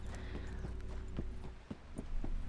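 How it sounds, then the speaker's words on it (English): Hooves of a wild horse herd clip-clop in Red Dead Redemption 2, a steady scatter of soft, uneven hoofbeats moving at a walk over a low ambient bed, with a few sharper strikes near the end. "To your right, you see a herd of wild horses."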